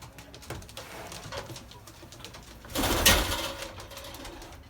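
Pigeons coo softly inside a pigeon loft, with rustling and a louder burst of fluttering activity midway.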